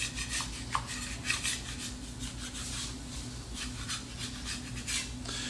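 Close, soft scrapes and rubs of a scraper working under hydrated dog-treat dough on a work surface, a quiet irregular series of strokes with a low hum behind.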